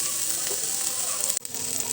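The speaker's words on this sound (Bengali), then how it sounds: "আমাদের ক্যাপসিকামটা ভাজা হয়ে গেছে" Capsicum frying in a pan, a steady close sizzle with a brief clank partway through.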